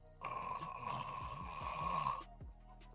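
A man imitates loud snoring with his voice, rough rattling snores with a sustained nasal whine, close and alone, tapering off at the end.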